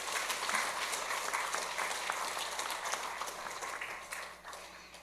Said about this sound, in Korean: 힘차게 박수로 맞아주시기 바랍니다.